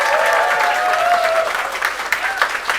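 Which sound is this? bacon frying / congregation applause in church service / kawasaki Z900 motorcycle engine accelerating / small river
congregation applause in church service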